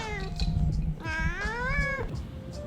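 A house cat gives two drawn-out meows, the second longer and rising, close by over a low background rumble.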